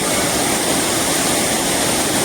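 Savdav waterfall near Kankavli, with a child playing in the water, heard as a dense, unbroken roar of falling water, loud and close, filling the whole short stretch.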